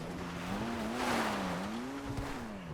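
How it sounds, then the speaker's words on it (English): A car in the GTA Online video game coasts with the throttle released, its engine braking in a steady, moderately loud drone that rises and falls slightly in pitch, with no other sounds around it. "has some rather impressive engine braking. You can hear it on the places where I just let off the gas"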